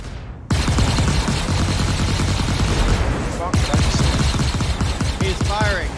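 Spaceship guns firing in a Star Citizen space battle: rapid, loud, continuous bursts of gunfire with a brief break near the start, plus a short pause midway.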